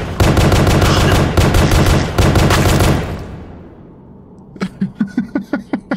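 Rapid bursts of gunfire in the Pony Factory video game: a loud, fast machine-gun stream for about three seconds that fades into a decaying tail, then a second, quieter burst of evenly spaced shots.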